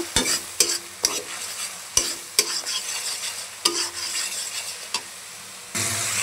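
Spices sautéed in oil and stirred firmly, with sharp spatula knocks and scrapes against the pan over a continuous sizzle, and a louder frying hiss at the very end.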